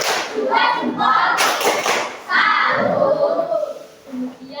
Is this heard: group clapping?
yes